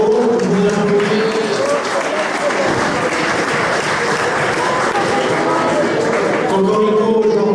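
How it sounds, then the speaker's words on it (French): An audience at a Paris 16th arrondissement town hall anniversary event applauds loudly and continuously, a thick sustained wash of clapping with crowd murmur and voices underneath throughout. "vous applaudissez"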